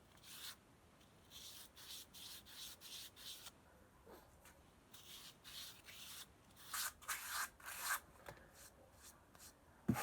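Sandpaper rubbed over the inside of a pinch-pot ceramic piece, a quiet close scratchy back-and-forth rasp in irregular short strokes, with no voices.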